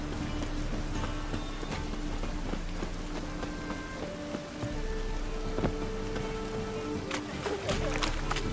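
Roach the horse galloping in The Witcher 3, quick hoof clip-clops under steady rain pattering on surfaces, moderately loud and continuous.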